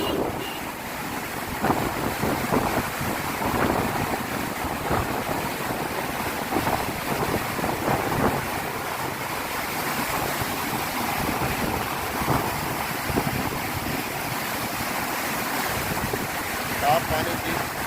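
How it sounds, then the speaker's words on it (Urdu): Fast floodwater on the Indus River in Punjab, Pakistan roars through a wide-open barrage gate, a loud continuous turbulent rush with wind buffeting the microphone throughout. "اس میں آپ پانی کی رفتار کو چیک کریں، اور بھی زیادہ تیز ہے"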